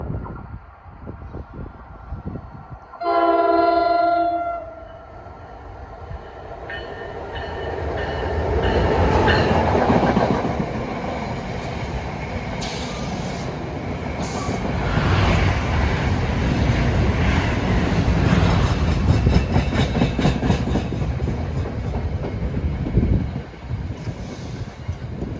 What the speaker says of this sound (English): approaching at 1:37 is train 3843, New York to Trenton